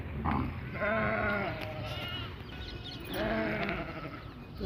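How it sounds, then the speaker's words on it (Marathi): Sheep and goats bleat nearby in a few drawn-out, wavering calls separated by short pauses. "ब्लॅक कलरची शेळी पण आहे ओरडत आहेत"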